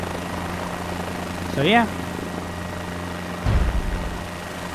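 Helicopter rotor and engine drone in Microsoft Flight Simulator, a steady mechanical hum running throughout with a rising whine and a low thump near the end, under brief talk.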